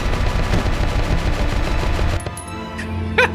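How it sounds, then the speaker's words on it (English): Fast automatic gunfire from shooting in a video game, a loud close stream of rattling shots that stops abruptly after about two seconds, followed by a few faint metallic clinks and game ambience. "I'll shoot."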